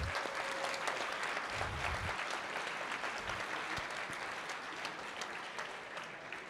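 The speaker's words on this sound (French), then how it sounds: "on peut les applaudir" A room at a hacking competition's closing ceremony breaks into applause for the CTF team, a thick wash of clapping that holds steady throughout with a few low thumps near the start.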